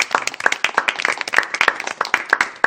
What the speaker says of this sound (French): toute l'émission avec Cyprien, Alex et Noah, qu'on applaudit bien fort.